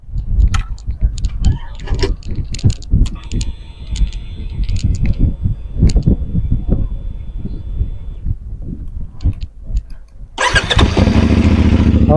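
A CF Moto 450 SR sport bike engine cranks and fires near the end, settling into a steady loud idle after a stretch of clicks and handling noises close by.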